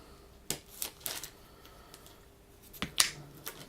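Hobby clippers snip Skitarii Ranger miniature parts off a plastic sprue, two sharp close clicks, one early and one later, in a quiet room.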